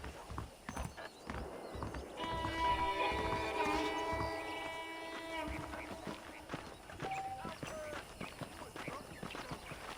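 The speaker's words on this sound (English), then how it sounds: "The horses are saddled up over here" Saddled horses in the video game Red Dead Redemption clop along steadily with a brief whinny, their hoofbeats running under a voice and a swelling musical score throughout.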